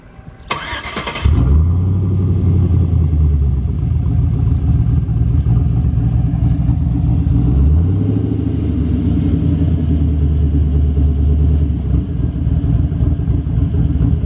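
Chevrolet Silverado with Flashark Racing shorty headers starts with a sharp crank, then settles into a loud, close, steady idle with a deep rumbling exhaust and a rhythmic lope that swells and eases in long cycles.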